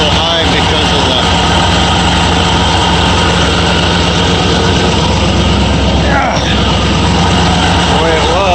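A Ford F100 pickup engine idling a little high after carburetor adjustment, a loud, steady, close rumble running throughout with no change in pace.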